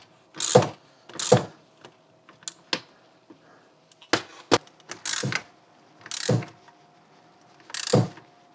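Ratchet tool tightening the fuel pump sending unit on a Volvo 740 T5: several separate sharp clicking bursts spread across the clip, close and fairly loud, with small taps and handling sounds between them.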